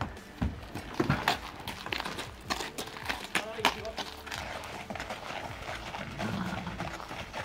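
Horses arriving at a show-jumping stable, hooves clip-clopping in irregular steps nearby, with people talking over the movement.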